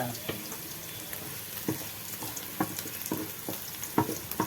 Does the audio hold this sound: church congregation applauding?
no